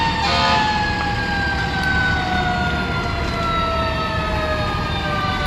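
A fire engine's wailing siren sounds loud and steady as the engine arrives at a three-alarm scrap yard fire in Sacramento, its pitch sweeping slowly over a constant rumble of engines and background noise.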